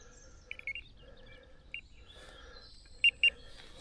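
A carp fishing bite alarm is switched on outdoors in winter, giving a few short electronic beeps, with two louder tones near the end against quiet background.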